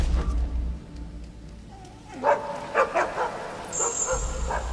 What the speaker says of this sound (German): der Hund nervt ein bisschen